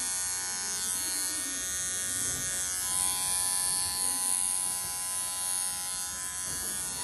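Electric clippers buzz steadily while shaving the belly and rear of a seven-week-old Schnauzer puppy, a close, continuous high-pitched drone with slight changes in load, a voice speaking faintly underneath.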